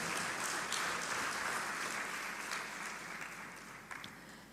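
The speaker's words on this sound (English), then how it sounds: "Let us give a big round of applause for all our achievers." An audience at a university research symposium in Peradeniya applauds award recipients with an even wash of many hands clapping, fairly quiet and distant, holding steady and easing off slightly toward the end.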